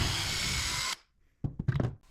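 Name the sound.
power drill drilling a hole through PVC pipe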